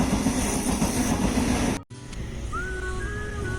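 Passenger train travelling on the rails on a long journey from Kerala to Goa, a steady rolling rumble that dips briefly to near silence partway through, then continues more quietly with a faint high whine.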